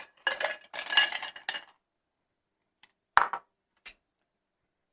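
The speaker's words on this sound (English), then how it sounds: "Ice in hand, ice in glass." Ice cubes dropped into a cocktail glass for a rum drink, a cluster of clinks and rattles followed by a pause, then a few sharp single clinks, close and crisp.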